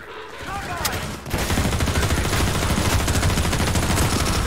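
Sustained automatic gunfire from the first-person shooter Half-Life 2 rattles loudly at close range in a continuous, rapid barrage that starts after a brief quieter moment, with a voice heard beneath it.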